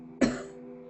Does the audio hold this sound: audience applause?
no